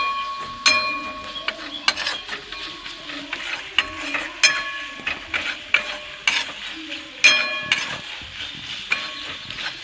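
Flat beans stir-fried with gram flour (besan) in a pan on the stove, a spatula scraping and clinking in a loose, uneven rhythm over a soft sizzle, close and clear with no talking.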